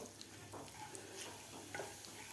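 Kashmiri red chili powder dropped into hot oil in a pan, a soft continuous sizzle with light stirring scrapes, close but quiet, no voices.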